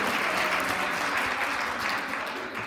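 Dense, sustained applause from a large audience at a presentation, a continuous even roar of many hands clapping that holds steady and eases slightly at the end.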